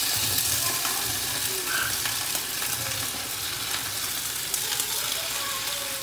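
Okra frying and sizzling in a hot pan with browned garlic while being stirred, a steady close crackle throughout with occasional scrapes and no talk.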